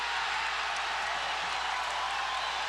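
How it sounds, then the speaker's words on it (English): Basketball arena crowd at a 1990 college game, Georgia Tech at North Carolina State, roaring in a steady, dense wash of cheering that holds unbroken throughout the clip, with no clear individual voices standing out. "Crowd really a factor now."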